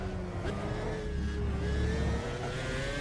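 A Formula One car engine in the F1 2010 racing game revs up hard out of a corner, its high whine climbing steadily over a loud, constant engine roar, with no talking.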